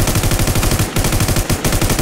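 Rapid automatic gunfire from The New Z, warning shots fired in fast repeated bursts, loud and close, a steady rattling stream broken by two short pauses.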